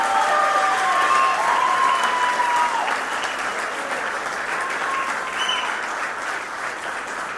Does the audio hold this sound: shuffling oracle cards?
no